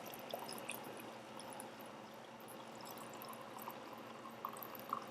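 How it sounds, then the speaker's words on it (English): Hot homemade ghee poured into a heat-safe glass mason jar, a soft continuous trickle with faint drips and small glassy ticks, quiet and close. "I'm going to pour the ghee off now into a heat-safe glass jar"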